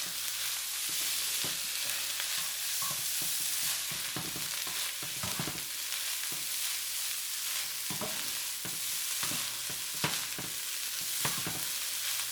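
Beef fried rice with egg stirred in a hot pan makes a continuous soft sizzle, with repeated scraping and tapping of the utensil against the pan at an uneven pace.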